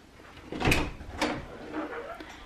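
A door opens inside a house, giving a couple of soft clunks and a brief creak at close range, moderately loud and with no talking over it.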